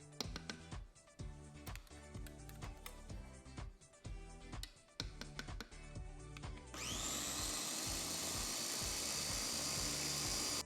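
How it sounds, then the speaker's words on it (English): An electric blender whirs loudly and steadily, running alone through the second half after a stretch of clatter and knocking as whisked egg whites are blended. "now that it's done blending"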